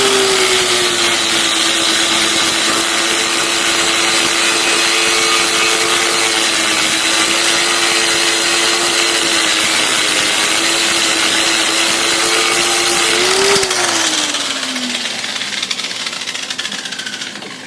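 Angle grinder steadily grinding a bare spot on the steel deck of a Husqvarna 7021P lawn mower, a continuous loud whine that holds for about thirteen seconds, then dips and winds down as the disc spins to a stop.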